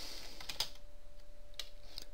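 Sparse keystrokes on a computer keyboard as a command is typed, a few faint, isolated clicks over a quiet background hum.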